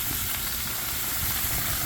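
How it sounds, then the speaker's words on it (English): A steady, loud hiss of sizzling steam as water is sprayed into a hot pan of stuffed peppers, continuing without pause. "I'm going to spray some water in here"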